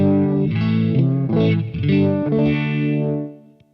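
Guitar played through an MXR Uni-Vibe pedal in chorus mode, dry and wet signals blended into a swirling, throbbing tone; several loud sustained chords ring out one after another and fade near the end.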